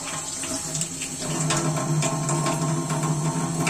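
Water is poured into a pot of masoor lentils with vegetables, giving a steady, close splashing stream that runs for a few seconds.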